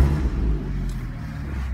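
A Porsche Cayman GTS engine turns over and settles into a steady, deep rumbling idle close by, with no talking.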